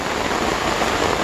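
A downpour beats on a river while fishing, a thick, constant roar of falling water, loud and even throughout with no one speaking.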